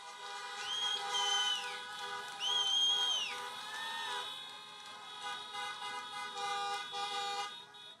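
Car horns honk at a drive-in political rally in Miami, several overlapping toots and sustained blasts rising and falling from multiple vehicles at a distance, with no talking over them.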